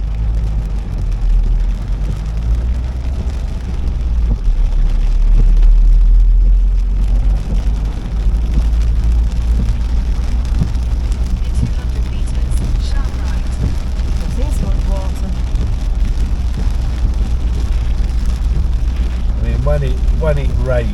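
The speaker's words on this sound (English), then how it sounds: "When it rains in these countries, by heck it rains." Heavy torrential rain pours onto a car driving the road from Kotor to Niksic, a dense, steady roar of water and road noise that fills the whole stretch with little change.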